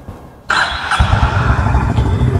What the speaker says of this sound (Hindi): तो चलो मैं मोटरसाइकिल स्टार्ट करके आपको एक बार एग्जॉस्ट नोट सुना देता हूँ।